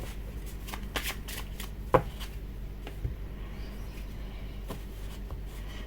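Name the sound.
tarot cards being shuffled and dealt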